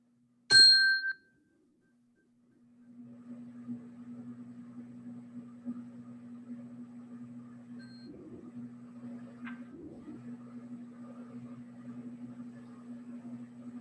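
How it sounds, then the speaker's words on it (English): A single bright meditation bell chime rings once and dies away within about a second, then a steady low hum continues quietly for the rest of the clip. "if you would listen to each of these bell sounds until it goes away"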